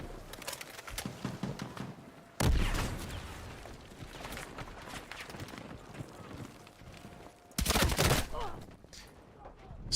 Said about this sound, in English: So many grenades.